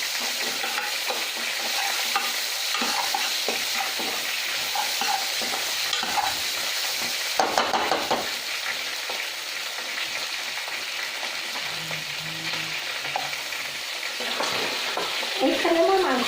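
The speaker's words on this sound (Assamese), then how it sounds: "জলকীয়া গুড়ি কাশ্মীৰী মিৰ্চ এইখিনি মই একেলগে ফ্ৰাই কৰি লৈছোঁ" Chili powder and Kashmiri chili frying together in a pan of oil, a steady close sizzle with stirring scrapes throughout and a brief louder burst midway, no talking.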